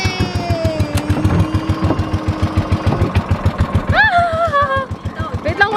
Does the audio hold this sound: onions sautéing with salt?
no